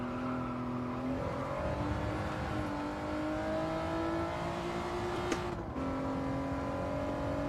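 Acura NSX engine in a racing video game, revving steadily with the pitch climbing in stages through the gears, loud and continuous with a brief dip near the end and no talking.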